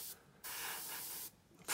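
Airbrush spraying paint on a 1/32 scale ICM Gloster Sea Gladiator Mk II model aircraft, heard as two steady bursts of close hiss separated by short pauses, no talk.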